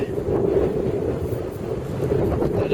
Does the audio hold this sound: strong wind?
yes